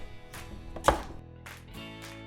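Knife roughly chopping celery and other vegetables on a cutting board, a handful of close, crisp chops with one sharper strike early, alone without speech.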